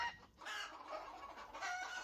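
Chickens cluck close by on a farm with a white rooster among them, a brief busy burst of short fowl calls with no talking.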